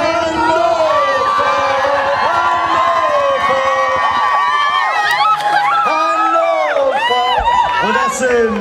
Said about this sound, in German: Es gibt einen donnernden Applaus für Bronze.